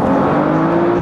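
A 600 hp big-boost BMW 335i xDrive F30 under hard acceleration: a loud, steady engine drone with a rising whine, heard close and continuous with no talking.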